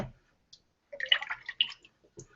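Lye water is poured into olive oil for cold-process soap, a soft intermittent trickle and splash in short bursts, close and quiet, with silence between pours.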